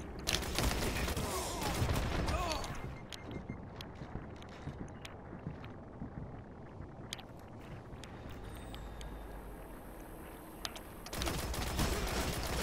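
Suros Regime auto rifle fire in Destiny crucible multiplayer: dense, continuous automatic bursts at the start and end, with quieter rattling battle noise in between.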